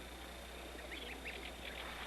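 Soft, high peeping calls from goslings come in a few short bursts over a faint steady background hum.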